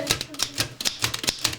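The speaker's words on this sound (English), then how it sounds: "Oh, it's got a lovely sound. This is my new typewriter." An old typewriter types with sharp, close key strikes, about eight or nine irregular clacks in quick succession with brief pauses, loud and alone.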